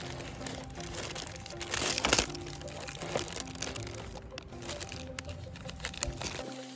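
Plastic package of bare root strawberry plants being opened, close crinkling and crackling of wrapping with a louder crunchy burst in the middle, then scattered softer rustles.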